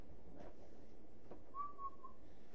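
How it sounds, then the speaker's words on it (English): A short, quiet whistled note from a person, a wavering tone lasting under a second, over soft room hiss. "I have a whistling problem. I'm like whistling."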